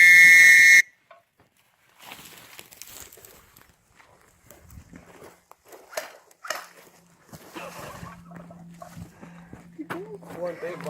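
Airsoft field base buzzer gives a loud, harsh electronic burst for under a second at the very start, then cuts out, leaving scattered footsteps and voices talking outdoors.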